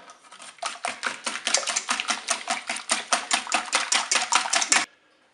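Cake batter with milk being mixed by hand in a bowl for a coconut cake, a quick, steady run of about twenty close, even strokes that stops abruptly near the end, with no talking.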